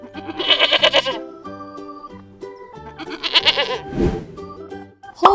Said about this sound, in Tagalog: Goat.